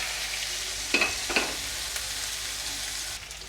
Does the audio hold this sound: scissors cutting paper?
no